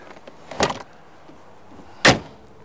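Convertible top of a red 1966 Chevrolet Corvette roadster being lowered by hand, two separate brief thuds and rustles, one softer and one sharper about a second and a half later, close by with quiet between.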